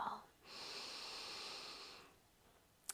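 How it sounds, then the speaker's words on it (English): A long, steady inhale through the mouth during a morning hypopressives pelvic floor routine, a close hissing draw of air lasting about a second and a half, followed by quiet and a faint click at the end; no talking. "Inhale."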